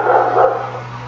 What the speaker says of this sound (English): Now I'm going to have to compete with the dog.